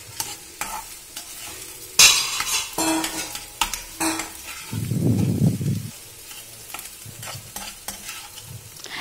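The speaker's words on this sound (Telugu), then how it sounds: "ఇలా బాగా కలిసేలా ఫ్రై చేసుకుందాం." Potatoes for aloo curry frying in a pan, with a steady sizzle under repeated scraping stir strokes and a brief low rumble partway through, heard up close and alone.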